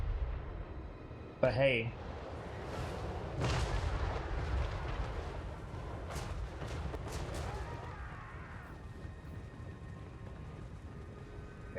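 Artillery barrage in Total War: Warhammer 3, a sharp boom followed by a long rumbling spread of distant blasts and battle noise, with someone talking briefly over it.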